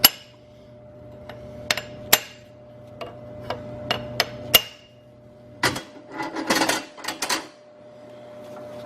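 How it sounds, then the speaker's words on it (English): Sharp metallic taps of a hammer striking a punch on top of a diesel injector in a TDI-swapped Toyota, about a dozen hits at irregular intervals, closer together toward the end, over a faint steady hum. "get a hammer and a punch"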